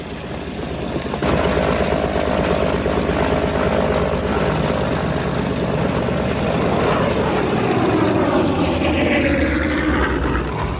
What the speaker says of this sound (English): Stand by to launch fighters.